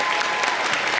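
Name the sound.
round of applause for middle school students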